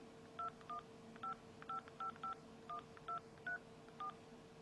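A phone's touchscreen dial pad sounds a quick series of touch tones, about a dozen short clear beeps in irregular rhythm, each a distinct dual-tone pulse over a steady faint background hum.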